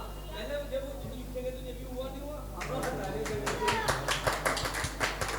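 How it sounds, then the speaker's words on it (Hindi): A small gathering at a Jain religious session with a monk breaks into clapping after a child's answer, a close, rhythmic patter of hands starting midway and following quieter talk. "भाई ताली बजा दो यार"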